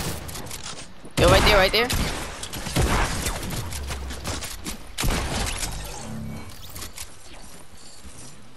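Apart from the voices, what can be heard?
gunfire from the video game Fortnite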